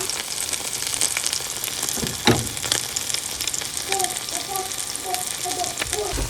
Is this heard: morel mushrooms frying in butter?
yes